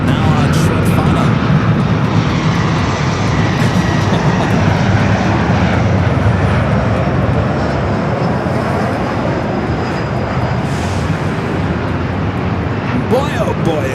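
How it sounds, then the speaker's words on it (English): E-Jet airliner on short final at Los Angeles LAX airport, a loud roaring jet engine rumble that stays close and steady throughout, with faint descending whine tones and brief thumps near the start and end. "Got an E-Jet now on short final."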